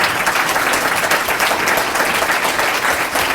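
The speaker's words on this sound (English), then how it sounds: "Let's give them a round of applause." School audience claps loudly and steadily for high school class officers, a dense crowd of applause filling the room with no talk over it.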